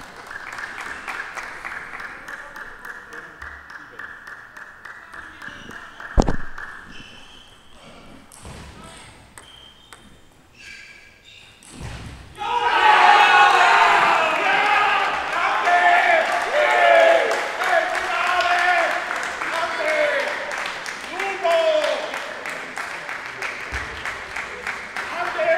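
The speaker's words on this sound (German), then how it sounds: "Der Jubel im Hintergrund, der galt" At a women's table tennis league final in Salzburg, a few ball pings give way to a loud, sustained wave of crowd cheering and applause. A commentator talks over the action.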